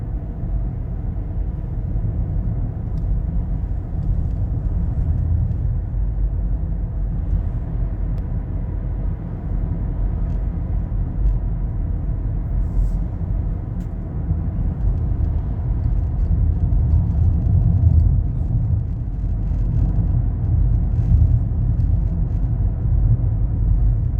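A car drives around St Simons Island, Georgia, with a continuous low road rumble and engine drone heard from inside, steady and fairly loud throughout.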